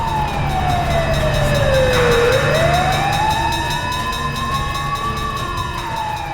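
A loud wailing siren from a fire engine or police car sweeps down and then slowly back up in pitch, continuous and close, over a low engine rumble.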